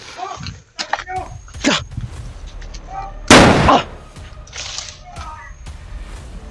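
A single loud, sharp gunshot cracks out amid scattered rustling and brief outdoor noises.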